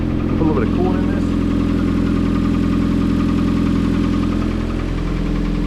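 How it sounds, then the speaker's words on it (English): A Jeep Compass engine with a hole in the exhaust idles steadily with a rough, rumbling low drone that stays constant throughout, close and loud. "It sounds bad. There's a hole in the exhaust,"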